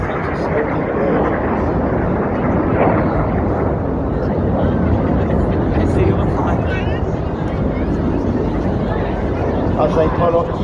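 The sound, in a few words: Red Arrows jet aircraft in an air display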